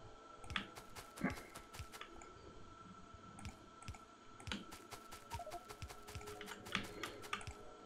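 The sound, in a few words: typing on a computer keyboard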